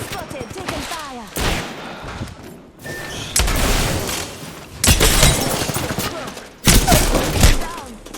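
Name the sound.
gunfire in the video game Apex Legends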